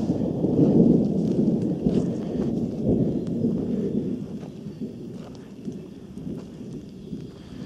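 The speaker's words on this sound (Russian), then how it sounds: "примерно в это же время пошел дождь, периодически гремит." Thunder rumbles low and heavy during light rain on a forest trail in the Caucasus mountains, swelling early and then fading into a softer, continuous roll with no voices.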